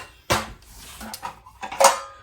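A metal bundt pan is pulled out and handled in a kitchen, giving a few sharp clanks and rattles separated by short pauses, heard up close with no talking.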